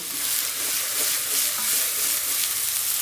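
Diced onion frying in hot oil with cumin and bay leaf gives a steady, close sizzle with faint stirring scrapes, heard alone without talk.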